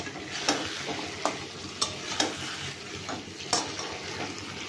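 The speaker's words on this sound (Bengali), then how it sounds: "এর মধ্যে আমি ভেজে রাখা পটলটা দিয়ে দিলাম। তো পটলটাতে ভালো করে মিশিয়ে নেব মশলার সঙ্গে।" Fried pointed gourd being stirred into cooked spice paste in a pan: steady soft sizzling runs throughout, punctuated by several sharp scrapes and taps of a spoon against the pan, with no talking.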